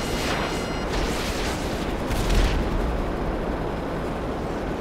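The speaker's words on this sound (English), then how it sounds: "They got me with a rocket." A rocket explosion in the video game Grand Theft Auto V, a loud booming blast with a dense rumbling roar that swells early, surges again mid-way, then stays heavy and noisy to the end.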